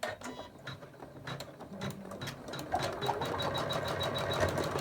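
Janome embroidery machine stitching out a lace coaster, a steady fast mechanical whir with a rapid needle tapping rhythm that grows slightly louder partway through, close and alone.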